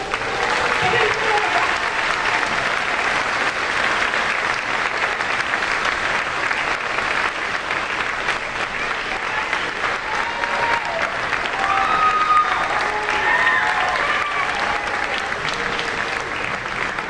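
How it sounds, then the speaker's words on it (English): A school audience claps in a big, steady round of applause that carries on evenly for the whole stretch at an event with a band and a Cinderella performance, crowded and close with no pause. "give them a nice big round of applause?"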